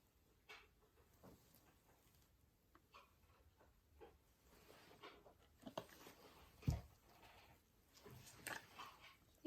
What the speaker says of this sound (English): that's my dog getting into something she shouldn't be in.